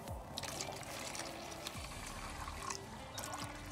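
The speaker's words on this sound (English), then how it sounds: "And fill it with some water." Water pours onto the felt pad of a flat lap machine, a faint, close trickle and splash with a few scattered drips.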